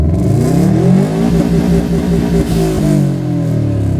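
A car engine rumbles loud and close, revving up and easing off in deep, steady swells with no talk over it.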